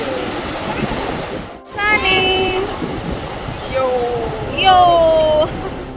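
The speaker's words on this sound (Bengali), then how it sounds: "আমি বলছি দীঘার উদয়পুর বিচের কথা।" Ocean waves roll in at Udaypur beach in Digha, West Bengal, a steady broadband surf wash running throughout under people talking nearby.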